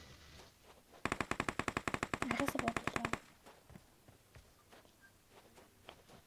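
Rapid automatic gunfire from a video game erupts in a tight burst of about twenty evenly spaced shots lasting two seconds, loud and close, followed by scattered quieter shots and clicks, with no talk over it.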